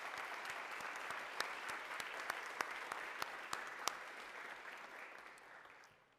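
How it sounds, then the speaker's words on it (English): Sustained applause from an audience at an academic awards celebration honoring winners, steady clapping with a few sharper claps standing out, gradually fading toward the end. "One more round of applause for those winners."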